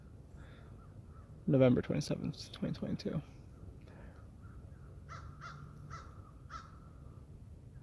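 Crows caw in a cemetery, a few short calls spaced apart and fairly distant, following a brief stretch of someone speaking.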